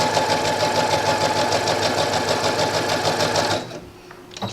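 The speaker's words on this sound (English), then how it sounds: "you just sew regular seam" A sewing machine runs a regular seam in one loud, steady burst of rapid rhythmic stitching, then stops abruptly near the end, leaving quiet handling noise.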